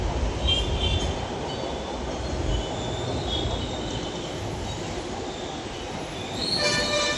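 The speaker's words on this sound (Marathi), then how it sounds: "बघा वरनं मेट्रो चालली" A metro train on the Pimpri line in Pimpri-Chinchwad rumbles past overhead for several seconds, wheels squealing steadily with a high metallic whine, loud and continuous.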